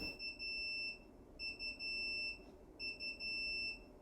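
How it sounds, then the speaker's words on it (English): Inkbird IHC-200 humidity controller alarm beeping in three sustained bursts with short gaps between them, a steady high-pitched electronic tone, clear and alone with no talking. "the alarm sound sounds like this"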